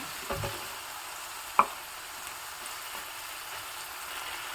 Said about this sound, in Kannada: ಉಪ್ಪು ಹಾಕಿದ್ರೆ ಟೊಮೊಟೊ ಚೆನ್ನಾಗಿ ಫ್ರೈ ಆಗುತ್ತೆ